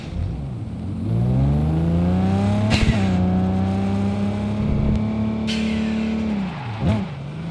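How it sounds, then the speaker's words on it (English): A car engine in Cyberpunk 2077 hums steadily as the vehicle cruises down a desert road, rising briefly as it revs, with a faint whir on top and no talking. "Let's hop back in the car and continue down the road a little bit."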